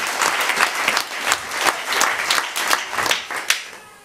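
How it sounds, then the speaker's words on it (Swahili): A church congregation at a sermon bursts into loud, sustained applause, many hands clapping close together in a dense, rhythmic patter that rises and falls for about four seconds. "Piga Yesu makofi mazuri sana"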